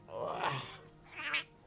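A pet cat gives two short, soft, drawn-out meows, close and faint, with a brief pause between them and no talk over them.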